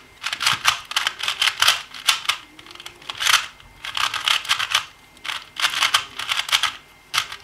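A 2x2 Rubik's cube is scrambled by hand, giving rapid bursts of sharp plastic clicking and rattling in quick irregular clusters, loud and close throughout.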